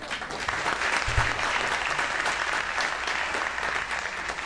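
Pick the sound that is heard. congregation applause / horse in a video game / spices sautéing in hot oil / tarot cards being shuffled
congregation applause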